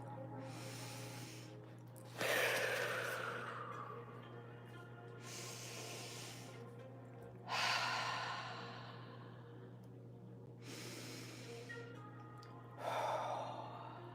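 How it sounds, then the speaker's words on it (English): Three slow, deep breaths, each a long airy inhale-exhale swell spaced several seconds apart, close and fairly quiet over a steady low electrical hum, with no talking. "You need to pause now and then and take 3 deep breaths."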